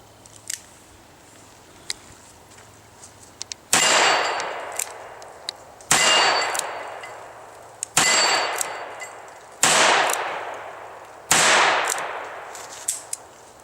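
Five loud gunshots from a Ruger New Vaquero revolver firing cowboy action ammunition, spaced about two seconds apart, each a sharp broadband crack with a long fading ring, after a few faint clicks and handling sounds.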